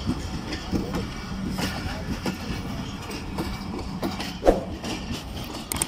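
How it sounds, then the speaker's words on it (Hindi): A restored 48DN Rehman Baba Express pulls out of platform 2 at Faisalabad during an inauguration ceremony, giving a steady rumble of rolling railcars with faint clatter throughout, and crowd noise blending in. "प्लेटफार्म नंबर 2 से इन्होंने निकाली है ट्रेन"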